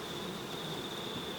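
Bees swarm around a beehive, giving a close, dense, steady buzzing drone throughout with no talking.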